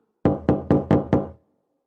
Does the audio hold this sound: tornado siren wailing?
no